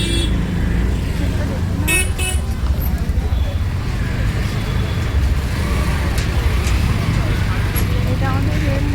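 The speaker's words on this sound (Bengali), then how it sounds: "আমার পিছনে অতগুলো গাড়ি আছে।" Busy road traffic near a railway line and market makes a dense, constant engine rumble, with several short horn toots rising above it.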